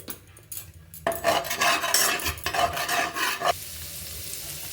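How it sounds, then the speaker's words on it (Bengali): Onion dropped into hot oil in a wok, with a sudden loud sizzle bursting up after a quiet start, then steady frying crackle alongside scraping stirring. "দেখুন তেলের মধ্যে দিয়ে দিচ্ছি আমি পেঁয়াজ পেঁয়াজটাকে আমি এবার হালকা করে ভেজে নেব"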